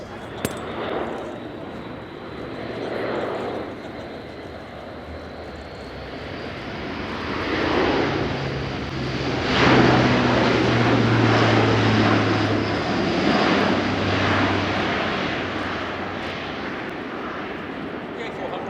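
A German Air Force A400M Atlas turboprop transport flies a display at an airshow, its propeller drone swelling and fading as it passes at a distance, loud and continuous across the open air.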